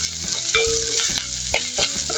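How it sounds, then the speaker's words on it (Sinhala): Salt, cinnamon and cardamom stirred in a hot pan make a close sizzle broken by repeated scraping strokes of a spoon against the metal. "ලුණු ටික, කුරුඳු ටික, එනසල් ටික එහෙම දාගෙන අපි මේ ටික හොඳට කලවම් කරගමු."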